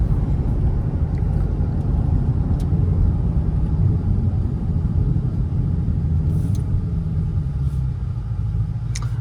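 A supercharged 5-liter engine in a 2021 Ford Mustang Shelby GT500 rumbles steadily and low, a dense continuous drone held at an even level without speech.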